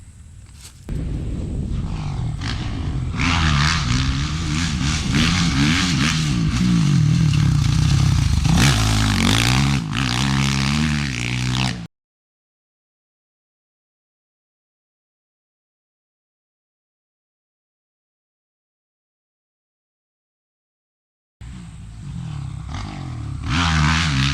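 A motocross motorcycle ridden over jumps on a private practice track roars and revs loudly for about twelve seconds, drops to complete silence, then its engine returns near the end.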